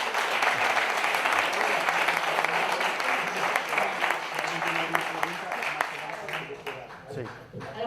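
Applause from an audience at a talk or conference session, steady dense clapping lasting several seconds, with voices talking over it.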